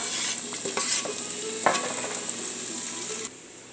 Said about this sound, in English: And we're going to take our onions and garlic. I have the stove on medium. And we're going to let these simmer.